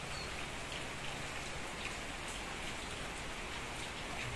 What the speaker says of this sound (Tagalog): Malakas yung ulan kaninang madaling araw. Tsaka hanggang ngayon, maghapon. Maghapon yung pag-ulan.